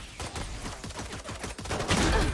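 Rapid bursts of gunfire from the video game Valorant, a tight string of sharp shots close and loud, ending in a louder flurry.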